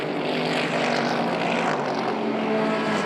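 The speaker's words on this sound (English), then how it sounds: "you just hear the rumble of the Mercedes and then the clean, crisp engine notes of the Lamborghini and the Ferrari" Mercedes, Lamborghini and Ferrari GT race cars run through the Parabolica at the Estoril circuit in Portugal during an Open GT race, their engines making a loud, steady, continuous roar with no voices over it.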